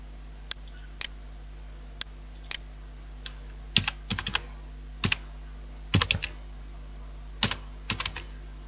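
Keystrokes on a computer keyboard as a brand name is typed, starting as a few separate taps and then coming in short quick clusters, close-up over a steady low electrical hum.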